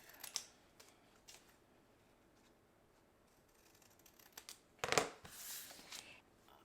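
Paper card stock is cut with a few short, crisp snips and slicing scrapes, close and quiet, with a louder cut near the end and little else around it.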